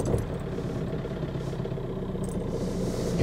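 A VW 1.9 TDI diesel engine runs at a steady idle, a low continuous rumble with no voices over it.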